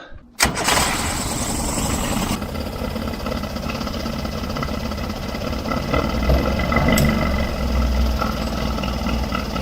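An outboard motor on a leaky fibreglass boat cranks briefly and catches, then runs steadily at a loud idle with a rough, throbbing note for the rest of the clip.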